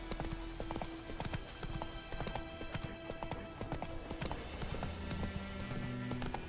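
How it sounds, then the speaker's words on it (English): Horse hooves clip-clop at a walk in the video game The Witcher 3: Wild Hunt, a steady rhythmic patter of hoofbeats over quiet background, with a brief faint whinny. "I don't even know why I needed the horse to walk this far."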